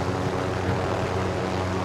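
A helicopter in a video game, a continuous droning engine and rotor hum with steady low tones, held at an even moderate level without a break.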